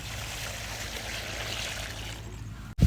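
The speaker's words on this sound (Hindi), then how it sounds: "तो भर लेते हैं पानी इसमें," Water pouring steadily into a container for farm animals outdoors, a continuous rushing flow for nearly three seconds that stops abruptly, followed by a brief close knock.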